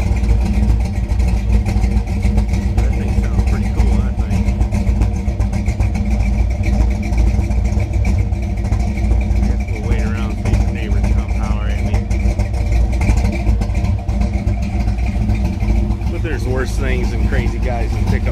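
1966 Chevy pickup truck with a loose fan belt doing a burnout, its engine rumbling and revving loudly and steadily throughout while people talk over it.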